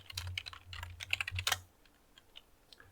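Rapid, dense clatter of computer keyboard keys during a cybersecurity lab session, loud and close for about a second and a half, then fading to a few faint isolated taps with no talking.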